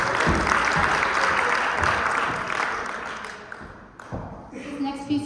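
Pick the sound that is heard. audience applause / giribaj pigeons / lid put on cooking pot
audience applause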